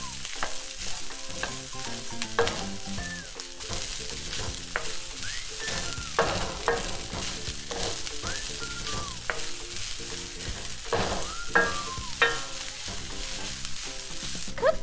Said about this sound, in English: Now add in your rice. Start to stir.